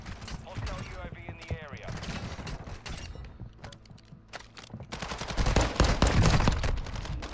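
Rapid automatic fire from an STB 556 assault rifle in the shooter game Warzone 2, bursts of dense cracking shots that build louder toward the end, with a voice and other game sounds mixed in.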